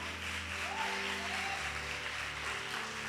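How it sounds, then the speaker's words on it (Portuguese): A church congregation applauds steadily and evenly for about three seconds, a dense continuous patter over sustained background music. "Você pode aplaudir Deus por isso"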